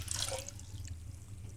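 Three cups of water poured into a pot on a lit stove to brew a homemade spiced tea remedy: a close splash at first, then a thin trickle and drips fading away over a low steady hum.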